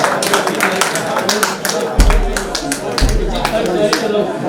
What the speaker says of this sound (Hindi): तालियां बजाओ तालियां। भाई तालियां बजाओ तालियां बजाओ।